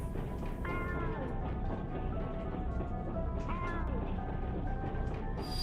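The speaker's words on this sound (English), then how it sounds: "Is that a cat?" A cat meows inside an indie video game, a few short mewing calls over busy game sounds and a person talking.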